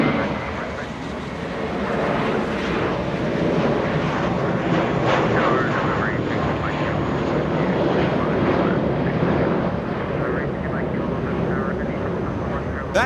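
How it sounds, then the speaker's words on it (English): A Spirit Airlines jet departs Los Angeles International Airport bound for Detroit, a broad, sustained engine roar holding steady at a distance for the whole stretch, with no clear talk over it. "back-to-back Spirit departure, Spirit of 953. This one flying to Detroit, Michigan"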